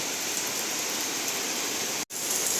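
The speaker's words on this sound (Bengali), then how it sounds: "এদিকে দেখো ঝমঝম করে বৃষ্টি নেমে গেল" Steady, dense hiss of heavy rain pouring down, constant and enveloping, with a brief cut to silence near the end.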